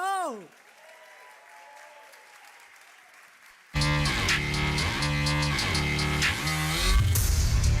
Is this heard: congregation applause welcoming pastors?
yes